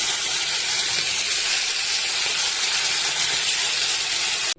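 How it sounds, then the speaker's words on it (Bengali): Kajoli fish frying in very hot oil, a loud, unbroken hissing sizzle held close throughout, cutting off abruptly at the end. "তারপরে মাছগুলোকে এখন তেল একদম গরম করে ভাজবো"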